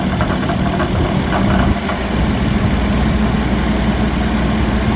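A tractor engine chugs at a steady low idle, close and continuous with a rough, rumbling texture and no voices.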